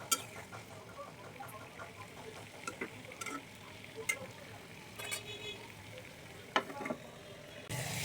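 Jackfruit seeds boil and bubble in a covered pot, a soft steady simmering hiss with occasional light clicks and a few clinks of a spoon against the pot, no voices.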